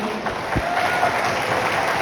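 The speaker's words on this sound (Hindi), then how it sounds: "हमारे जो कंट्री मेंटर हैं पवन सर के लिए एक बार जोरदार तालियां होनी चाहिए" A crowd at an achievements gathering applauds the country mentor, Pawan sir, with a thick, steady rush of clapping and murmur, moderately loud and unbroken.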